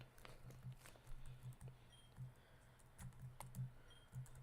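Arrow keys on a computer keyboard tap in an irregular rhythm during play of a Pokemon fan game, a series of soft, close clicks scattered over a low background hum.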